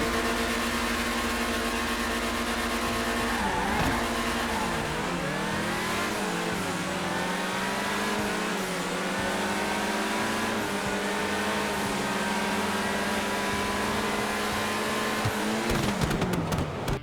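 Sports cars racing in GTA 5, a Pegassi Countach against a Grotti Cheetah Classic, whose engines roar and rev through gear changes with a rising and falling pitch, loud and continuous.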